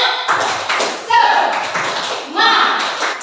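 A group of teachers performs a rhythmic spirit clap, short bursts of patterned claps and taps with voices calling along, close and fairly loud in a small room.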